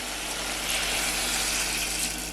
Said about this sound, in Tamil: கொஞ்சமாக தண்ணி சேர்த்து வேக வச்சிடலாம்